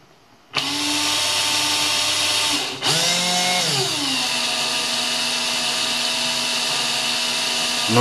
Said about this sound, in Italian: iniziate a far girare il trapano e a far movimenti avanti e indietro con la lima